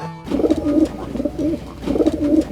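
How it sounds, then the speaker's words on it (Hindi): A pigeon coos close by in three short, throaty rolling phrases, fairly loud, with no other voices. "कबूतर।"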